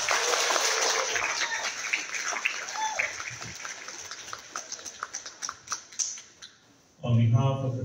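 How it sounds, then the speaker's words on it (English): Audience applause at a school event, a sustained wash of clapping that fades into scattered individual claps before a brief loud burst at the end. "Let's give them a round of applause."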